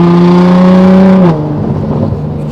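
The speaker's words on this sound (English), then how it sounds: "That exhaust just the GTR note just never gets old." A loud, close 1350 hp Nissan GT-R engine drones at a steady high pitch under acceleration, then the note drops abruptly into a rougher, rumbling exhaust growl.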